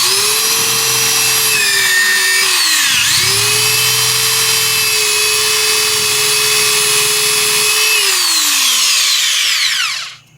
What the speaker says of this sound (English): I had no problem drilling holes through this stuff